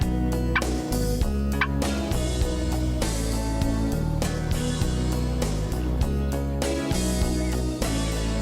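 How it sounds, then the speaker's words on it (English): Wild turkey toms gobbling amid dense, continuous sound with strong low and harmonic layers, bursts recurring across the whole stretch at steady loudness. "Lots of gobbling toms and even a close call or two."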